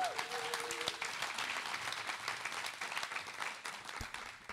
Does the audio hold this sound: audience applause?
yes